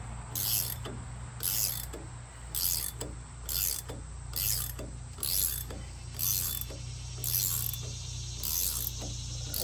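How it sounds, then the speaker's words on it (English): A wrench works a wheel stud out on a TYM T474 tractor, making quiet close metallic ratcheting clicks and scraping in a steady repeating rhythm, about ten strokes, over a low background hum. "This stud is coming out every flex of the wrench."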